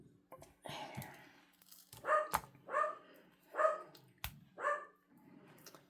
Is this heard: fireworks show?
no